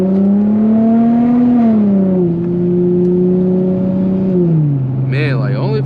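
Infiniti G35 engine in manual mode revs with a smooth rising and falling drone, pitch climbing and dropping between shifts, close and prominent.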